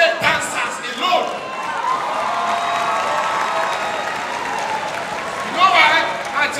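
A comedy show audience applauds female dancers, a steady dense wash of clapping and crowd noise lasting throughout at a fairly loud, even level, swelling slightly near the end.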